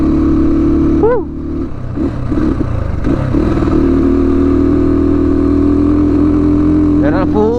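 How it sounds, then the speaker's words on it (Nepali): Motorcycle engine labouring on a steep, cold, high-altitude jungle road toward Manang, a loud steady drone with a brief drop near the start, someone speaking over it in short phrases. "जङ्गलको बाटो बाइकले तान्नै छोडिसक्यो क्या"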